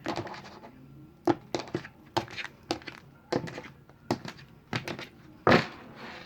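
Cards from a tarot deck being cut and shuffled by hand, a string of sharp papery slaps and riffles in an uneven rhythm, close and fairly quiet, with one louder flurry near the end.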